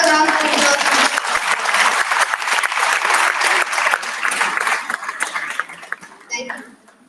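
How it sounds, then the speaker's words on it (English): Applause from the audience at an Arangetram classical dance recital follows the dancer's performance, loud and dense at first with a voice briefly over it, then thinning and fading as a few scattered claps and a speaking voice close it out. "Let's give her another round of applause."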